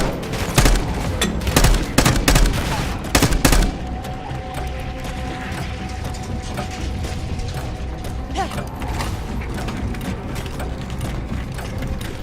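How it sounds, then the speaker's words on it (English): Grappling hook mechanism in the video game Call of Duty: Black Ops 6, a loud burst of clanking mechanical ratchets and sharp gunfire-like cracks in the first few seconds, giving way to a steadier whirring, rattling drone. "Still have the grappling hook"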